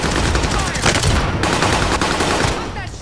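Loud, dense gunfire in a video game shooter with a Kar98 sniper rifle in play, several sharp cracks and bursts packed together over a busy battle soundscape.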